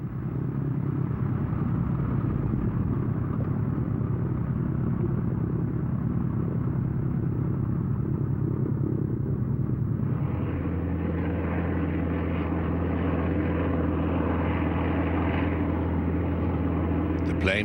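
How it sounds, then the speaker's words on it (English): Aircraft engines drone loudly and steadily on a maiden flight, a dense low rumble that shifts to a smoother, higher sustained tone midway, with no talk. "the 154 took to the air on its maiden flight."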